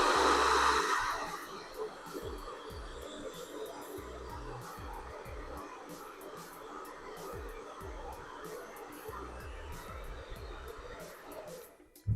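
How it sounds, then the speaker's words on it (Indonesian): Hair dryer running at 800 watts powered by a Bluetti AC50P power station, a steady broadband whoosh that holds constant for about eleven seconds before cutting off, with faint voice underneath. "kita masih bisa tetap menggunakan hair dryer yang ada di 800 watt"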